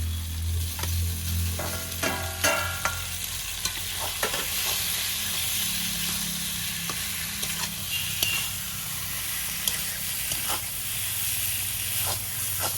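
Fried fish pieces and pointed gourd drop into sizzling masala in a pan, and a loud continuous hiss and fry follows, with sharp clinks and scrapes of stirring scattered throughout and no voices.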